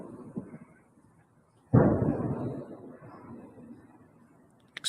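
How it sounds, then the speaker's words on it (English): A single distant explosion in a war zone booms out of near silence, a heavy rumbling blast that rolls and slowly fades over a few seconds, ending with a brief sharp pop. "Explosions from the distance."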